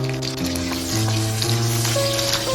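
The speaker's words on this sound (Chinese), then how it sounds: "油热之后再把香肠加进来翻炒" Sausage stir-fried in hot cooking oil in a wok, a steady loud sizzle and crackle running throughout with a low tonal hum beneath and occasional scrapes of stirring.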